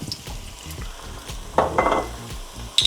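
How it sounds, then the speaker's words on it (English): Wine poured into a hot pan for shepherd's pie sizzles up in a loud burst, with brown bits being scraped loose and faint utensil clinks before and after. "So I'm just going to deglaze this a little bit. Put a little wine in."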